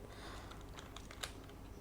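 Keys clack steadily on a computer keyboard during Python coding, a run of quick, evenly spaced taps with one sharper keystroke near the end, close and fairly quiet.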